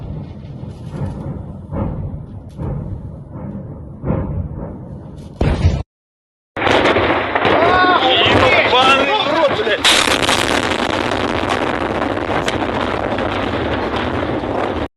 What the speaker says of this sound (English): ammo plates go boom